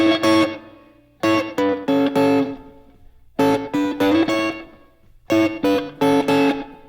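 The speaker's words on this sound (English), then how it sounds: "that's the sound of the sixth" Distorted electric guitar plays short repeated two-note phrases harmonized in sixths in bursts, with brief gaps between each riff.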